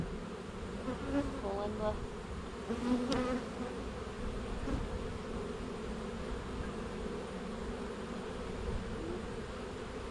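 Honeybees buzz in a dense, steady drone from an opened hive, close and continuous, with a few brief words spoken over it.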